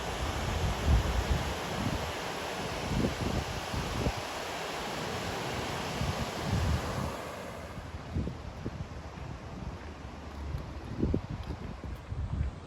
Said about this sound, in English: Little rapids going on down there.